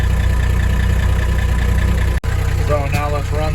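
A Freightliner FLU419 military Unimog runs steadily at a loud, close idle with its rear PTO engaged, a deep even drone broken by one brief clunk partway through, followed by a faint mechanical whine over the engine.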